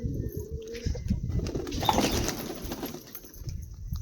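Saharanpuri lal jira pigeons, four birds gathered together, cooing softly at close range against a steady background hiss, with brief wing flutter.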